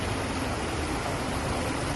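A small stream runs steadily outdoors, giving a constant close, full wash of flowing water with no breaks and no voices over it.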